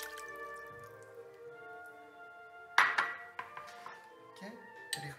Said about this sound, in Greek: Ρίχνω το νερό.